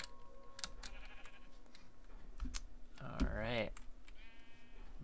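Sheep bleating in the video game Minecraft, a wavering bleat rising clearly around the middle and another fainter one near the end, with keyboard clicks and a brief spoken word around it.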